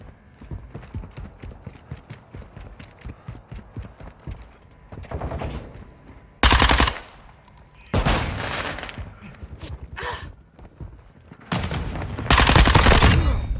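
Rapid automatic gunfire in Call of Duty Modern Warfare 2, heard as loud, dense bursts from about 6.5, 8 and 12 to 13.5 seconds, with quieter rhythmic footsteps and movement sounds between them.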